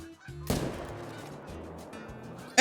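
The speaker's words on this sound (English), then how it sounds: "As I get interrupted by tons of geese because they're rude." Several geese honk nearby, their calls interrupting talk about an Easter update for Call of Duty, with a sharp burst of noise at the start followed by a steady stretch of squawking.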